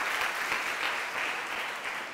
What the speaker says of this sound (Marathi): टाळ्या वाजवा त्यांच्यासाठी, मनोबल वाढवा त्यांचं